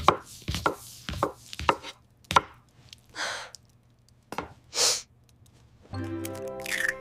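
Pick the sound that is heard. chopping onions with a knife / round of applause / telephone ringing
chopping onions with a knife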